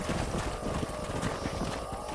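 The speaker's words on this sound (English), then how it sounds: "I gotta make sure I stop my horse because I'm going way too fast." Horse hooves galloping fast in Red Dead Redemption, a rapid steady clip-clop of hoofbeats close up, continuous and loud for the whole stretch.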